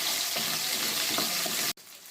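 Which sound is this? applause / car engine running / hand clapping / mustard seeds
mustard seeds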